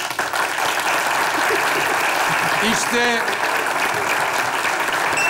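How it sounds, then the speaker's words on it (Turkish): Studio audience applauding on a Turkish television show, a dense, steady wash of clapping from start to finish, with a host's voice and brief musical tones cutting through near the middle. "Devam ediyor alkışlarınızla."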